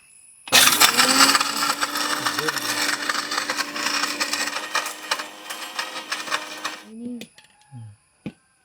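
A kitchen mixer grinder blending ingredients for juice runs loudly and continuously for about six seconds with a whining motor and rattling contents, then stops, followed by a few clicks of the jar being handled.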